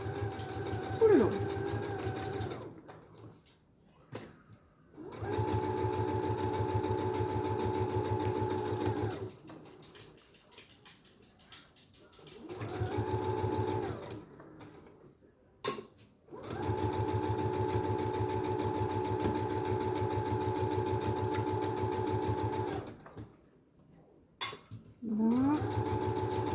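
Sewing machine stitching a garment neckline runs in several steady, close bursts of rapid whirring, with short quiet pauses between runs where the fabric is adjusted.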